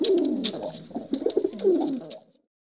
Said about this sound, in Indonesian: Sehingga Nuh mengirimkan burung merpati lagi dan kembali lagi